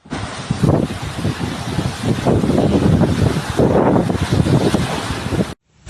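Strong storm wind blowing during a severe storm in Callosa de Segura, Spain, a loud, steady roaring rush of gusts that buffets the microphone continuously before cutting off abruptly at the end.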